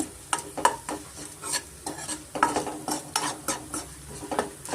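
Asafoetida frying in a pan for mango chitranna, with a rhythmic run of spoon scrapes and stirs over a soft sizzle, close and fairly quiet, with no voices.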